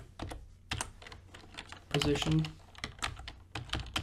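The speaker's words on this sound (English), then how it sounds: "I'm typing with one hand now because I'm trying to hurry." Quick clicking keystrokes on a computer keyboard, typed one-handed in hurried bursts while a person talks over it throughout, the taps spread across the whole stretch.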